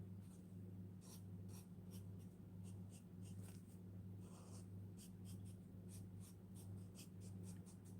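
Marker pen on an art journal page: repeated short scratchy strokes in irregular bursts, close and faint, over a low steady electrical hum, with no talk.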